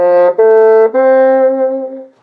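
Bassoon plays an ornamented F-chord arpeggio pickup from a Weissenborn etude, a few sustained, reedy notes with a brief break, ending on a long held tone that fades out alone.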